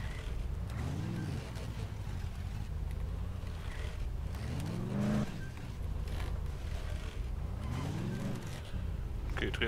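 Car engine in the video game Dead Island revving in repeated rising-and-falling surges as the vehicle drives and turns back and forth, loud and steady, with someone talking over it.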